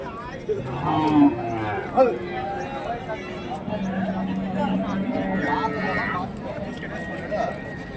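Calves and cattle at a livestock market in Krishnagiri district, India, lowing in a few drawn-out moos amid crowd chatter and people talking nearby.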